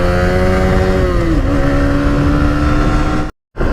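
Modified Yamaha R15 v3 motorcycle engine running steadily and loud up close as a ride begins, with a droning tone that dips slightly midway before the sound cuts out abruptly near the end.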